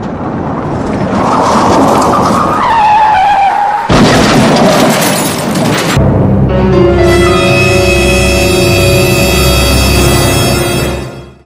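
A Bolero slams into a Cat 100-tonne dumper truck parked beside a mine haul road: a loud, sustained crashing roar that shifts abruptly twice before a lingering metallic ring.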